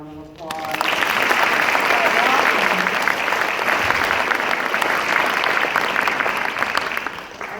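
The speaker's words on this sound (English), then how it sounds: "Can we just give Emily one more round of applause?" A sustained round of applause from an audience honouring a young science student, dense, steady clapping that starts abruptly and carries at full strength for several seconds with faint cheering mixed in.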